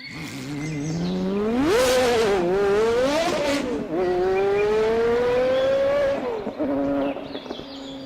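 A big car in a children's story, sounding as a loud cartoonish engine effect that revs up and down in rising, falling sweeps for about seven seconds, alone with no talking.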